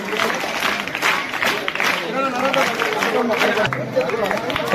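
Audience at a Sarva Shiksha Abhiyan school event in Chegur, clapping on cue in a steady, crowded patter with chatter and babble mixed in.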